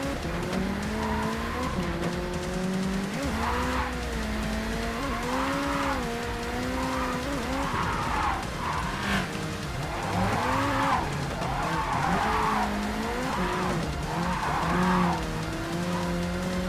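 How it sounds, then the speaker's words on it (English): Car drifting in a driving game: a continuous engine drone with long wavering tire squeals and skidding that rise and fall throughout, loud and close with no talk. "Still might be a little bit quick to go into drift."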